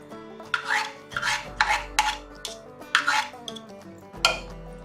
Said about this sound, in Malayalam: കുറേശ്ശെ ചേർത്ത് നന്നായിട്ട് മിക്സ് ചെയ്ത് കൊടുക്കാം.